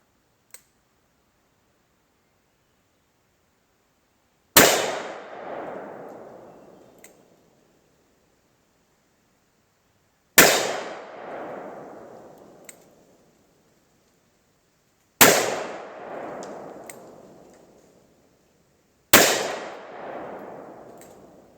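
Four loud, sharp gunshots from a .500 S&W revolver firing handloaded .500 S&W Special rounds with 440-grain bullets over 13 grains of Unique powder, each blast decaying into a long echoing tail, spaced several seconds apart with silence between.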